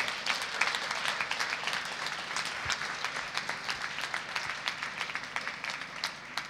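An audience applauds finalists at a negotiation competition final in Issoudun, with steady, dense clapping that carries evenly throughout with no gaps.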